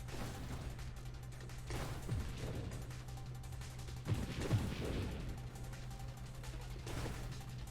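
Quiet, dense gunfire rattles through a co-op session of the space shooter Nova Drift, with a continuous low drone beneath it and several sharper bursts and impacts scattered across it. A faint voice occasionally surfaces in the mix.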